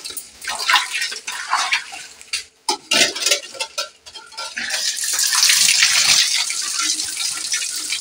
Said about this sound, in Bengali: মাছগুলোকে প্রথমে একটু ধুয়ে নিয়ে যাচ্ছে